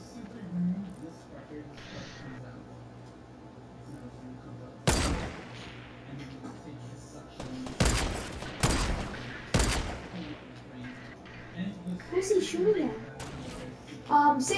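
Gunfire in the video game Fortnite: several sharp, loud shots in separate bursts, set against quieter game ambience and scattered background noise.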